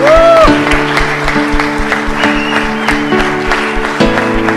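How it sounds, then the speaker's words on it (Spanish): Church congregation claps during worship while sustained music plays, the clapping mixed with a keyboard-like tone and a brief sung note at the start. "dele un fuerte aplauso a Él"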